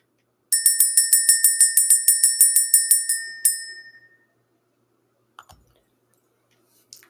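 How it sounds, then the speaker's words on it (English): A small bell, rung to clear out energy, is struck in a rapid run of about fifteen bright, close strikes. The last ring decays into silence, followed by a few faint clicks. "We're going to go ahead and ring this bell."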